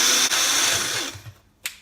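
Blender mixing chia pudding ingredients: a loud, high whirring motor that runs steadily, then winds down and stops, with a brief clatter at the end.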